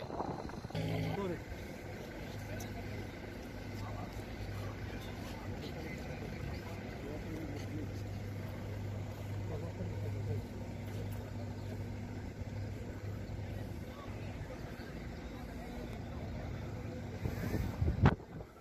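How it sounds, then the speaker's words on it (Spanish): Boat engines idle in Isla Cristina harbour after a vessel fire, a steady low hum with a constant drone line, wind buffeting the microphone and a louder surge near the end; people speak faintly underneath. "Los motores."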